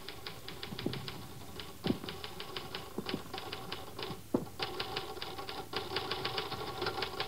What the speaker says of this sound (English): Mr. Thurston, That's an interesting letter you're typing.